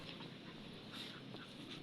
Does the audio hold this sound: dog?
yes